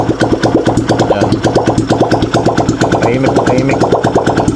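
A Rouser 135 motorcycle engine running with no exhaust pipe fitted, a loud, close, rapid popping idle with sharp regular firing pulses, steady throughout with slight revving toward the end.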